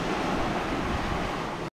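Strong sea waves surge and wash at Moalboal, heard while snorkeling, as a loud, continuous roar of surf mixed with wind buffeting the microphone. It runs without a break and then cuts off abruptly, with no voices.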